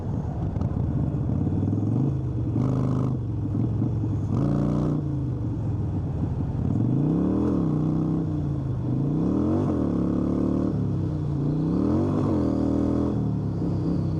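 A Harley motorcycle engine rumbling loudly and close, then revving up in second gear several times in rising surges during a wheelie attempt.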